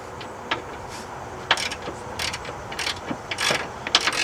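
Ratchet wrench clicks loosening a front strut bolt on a 2013 Honda Pilot, short bursts of rapid pawl ticks with metallic knocks, close and moderately loud in a quiet garage.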